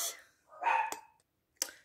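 A small chihuahua barks indoors in short sharp yaps, a couple of quick barks followed by a single clipped yip after a pause, close and fairly loud, with faint breathing between.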